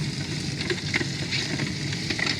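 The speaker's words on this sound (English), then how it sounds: "Oh yeah, you can hear that sizzling." Potatoes sizzle and fry in a pan on a grill, giving a steady, close crackling hiss with small pops and scrapes from stirring.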